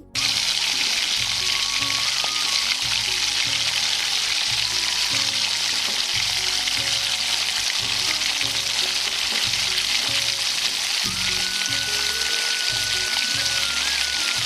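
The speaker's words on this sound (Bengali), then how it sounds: "মা মাংসগুলো ভালো করে ভেজে নিচ্ছে" Steady, loud sizzling of meat and onions frying in a pan, with occasional stirring scrapes throughout.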